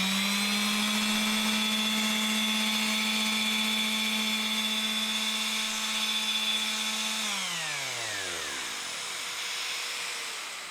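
A 22-year-old Festool sander runs with dust extraction attached, producing a steady, close motor whine that holds evenly for several seconds and then winds down smoothly as the tool spins to a stop.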